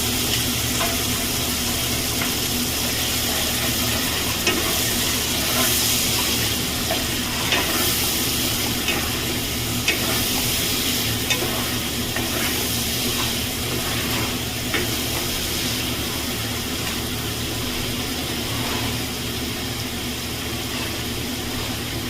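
Poppy seed paste fries in a pan with bottle gourd greens, a steady, close sizzle running throughout with irregular scraping and stirring sounds on top.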